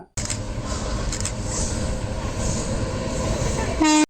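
A high-speed express train in India rushes past with a loud, continuous roar and rattling wheels, then its horn blares sharply at the end.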